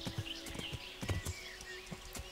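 Horse hooves clip-clop in the video game Kingdom Come Deliverance, a steady run of soft, close thuds at a trotting pace over a faint ambient backdrop.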